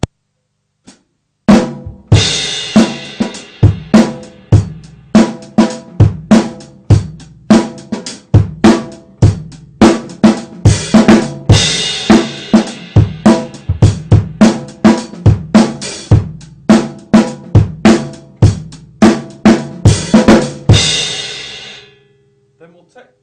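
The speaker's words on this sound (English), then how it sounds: "to play the same thing again with the cross stick and the backbeat as well," A snare drum groove plays a steady pattern of crisp clicky cross-stick hits and fuller backbeats, close and loud, ending with a brief ring-out.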